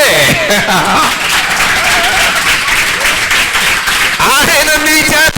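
A church congregation claps together during a Wednesday service, a dense steady patter of many hands close by, with a preacher's voice talking over it and brief laughter among the crowd.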